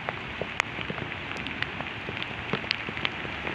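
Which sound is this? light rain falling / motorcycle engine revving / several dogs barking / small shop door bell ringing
light rain falling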